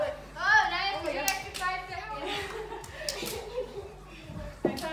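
A single sharp hand clap during a kids' push-up clap exercise in a Tabata workout, heard amid children's chatter and light laughter, with another crisp clap near the end.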